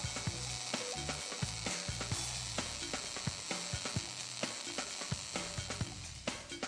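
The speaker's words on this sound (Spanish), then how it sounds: "del propio sonido de la soldadura, de las características del arco" A MIG/MAG welding arc sizzles and crackles continuously, with dense, irregular spatter pops and buzzing over a steady hiss, heard close and alone.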